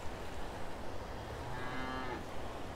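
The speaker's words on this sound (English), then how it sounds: "The cows visit the beach from their pastures on the cliffs." Cows on a beach at White Park Bay, with pastures on the cliffs above; one long low moo rises out of steady surf and wind noise, moderately distant.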